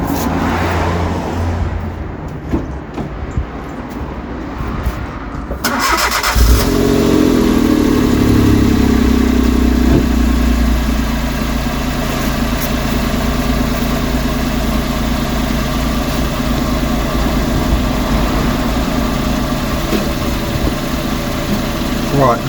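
A Citroen C1 with an upgraded exhaust cranks over and starts, then settles into a steady, loud idle that holds for the rest of the stretch, with someone talking over it in places.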